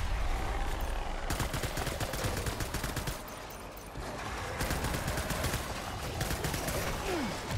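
Gunfire rattles in the video game Death Stranding as dense, rapid bursts of shots repeat throughout at close range and high volume, with a short lull midway.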